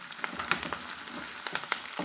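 Mushrooms fry in a pan with curry leaves, a soft, close sizzle with small irregular crackles and pops, fairly quiet and without talk.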